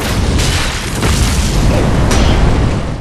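Heavy booming impacts and rumbling bursts from a Gargoyle Flame Hammer jumping attack in Dark Souls 3 PvP combat, loud and dense throughout with a couple of sharper hits layered over continuous roar.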